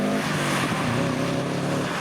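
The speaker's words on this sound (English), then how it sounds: "Subaru Estate." A Subaru estate car leaving a car show in heavy rain: a close engine note rising and falling over a couple of seconds amid loud rain and road spray.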